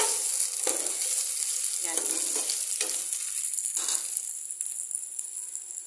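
Food sizzling in a hot pan, a bright steady hiss with several distinct stirring or turning strokes early on, fading slightly toward the end.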